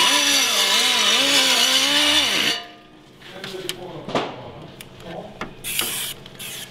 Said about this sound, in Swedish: Ta en luftfil och så.